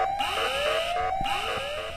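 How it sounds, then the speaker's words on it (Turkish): An alarm rings in the horror video game Ice Scream 4, a loud, repeating rising electronic wail that sweeps upward again and again without pause. "Alarm çalıyor, alarm çalıyor, alarm çalıyor."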